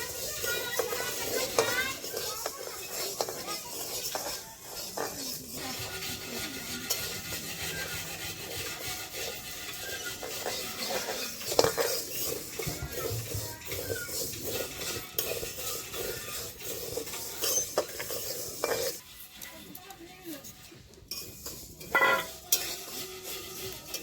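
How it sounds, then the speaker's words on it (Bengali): Dry urad dal being roasted and stirred in a pan, a steady scraping and rustling of lentils against the metal with faint crackle, continuous and fairly close, with a few sharper knocks and brief quieter gaps. "এখন ডালগুলো ভাজে দিব।"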